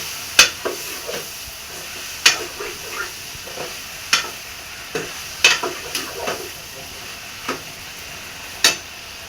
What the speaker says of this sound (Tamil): இப்போ நல்லா கலரிச்சு நம்ம திருக்க கறியை இது கூட சேர்த்துக்கிறோம்